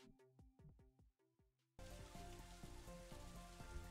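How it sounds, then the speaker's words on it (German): A hissing wash of rain starts abruptly partway through in the game Youtubers Life 2, cutting in over quiet rhythmic game music and continuing steadily to the end. "Es regnet!"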